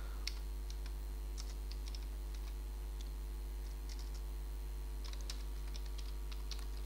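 Keys tapped on a computer keyboard while entering a complaint on a West Bengal e-District services form, in scattered bursts of light clicks over a steady low electrical hum, fairly quiet and with no talk.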